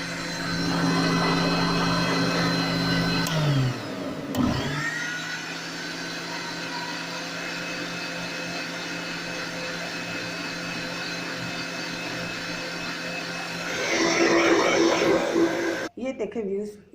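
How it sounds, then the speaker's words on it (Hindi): Electric blender grinding a homemade strawberry milkshake, a loud steady motor whir that shifts pitch partway through as the load changes, then surges again before cutting off near the end. "ये देखें, अब मैंने इसको ग्राइंड करना शुरू कर दिया।"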